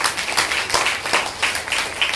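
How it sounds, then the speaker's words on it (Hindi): An audience at a Bhagwat katha gathering in Vrindavan breaks into loud, sustained clapping, many hands beating in a dense, slightly pulsing rhythm. "इनके लिए आप जोरदार ताली बजाओ"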